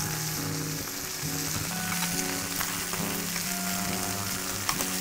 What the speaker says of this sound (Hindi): देखिए हमारी चिकन फ्राई हो रहा है